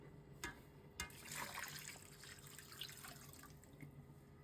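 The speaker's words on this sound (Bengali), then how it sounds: "তো এখন আমরা দিয়ে দেব পানি।" Water is poured into a pot of yakhni biryani with onion and cumin, a soft trickling splash that runs steadily for several seconds after a couple of light clinks, quiet and close.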